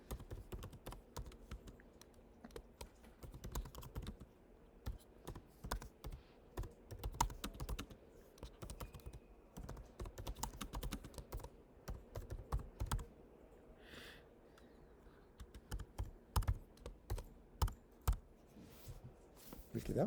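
Rapid, uneven clicking of computer keyboard keys typing a document for a fluid mechanics practical, in close, quiet bursts with brief pauses.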